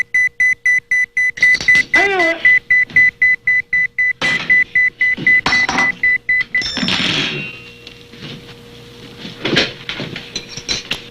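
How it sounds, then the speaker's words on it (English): An electronic device beeps over and over in a rapid, regular series of loud, close tones, then continues more irregularly, with brief voices and rustling mixed in. "Whenever I'm happy, close to having a good time, I hear beep, beep, beep."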